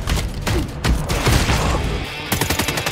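Gunfire from a film battle scene involving a Thompson gun, with dense bursts of shots and rattling reports that fill the whole stretch, loud and close, with no speech.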